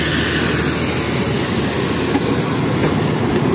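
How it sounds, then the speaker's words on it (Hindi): Green Line Express train pulling out of Karachi Cantt railway station, a loud, steady rumble and rattle of wagons rolling past close by without a break. "और ये चली गई है मेरी train Karachi cantt railway station पर।"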